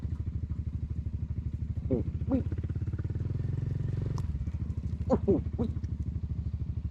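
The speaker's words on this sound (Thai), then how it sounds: "มีมอเตอร์ไซค์อยู่สองคัน ไม่ได้มาด้วยกันนะครับ" Motorcycles ride past on a rainy-season road trip in Sangkhla Buri, Thailand, under a steady close engine drone from a Forza 350 scooter, with a person talking over the rumble.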